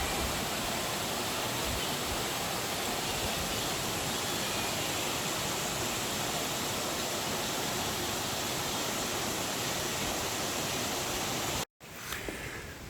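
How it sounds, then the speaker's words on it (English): A small waterfall on a river in Taroko National Park, Taiwan, pours with a constant, full rushing hiss close by, unbroken and with no voices, until a brief cut near the end. "Nice little waterfall."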